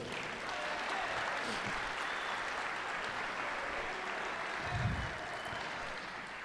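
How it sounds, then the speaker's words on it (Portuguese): A church congregation at a men's congress in Brazil applauds, a steady, dense wash of clapping from a large crowd that holds evenly for several seconds. "você pode dar um aplauso ao Senhor?"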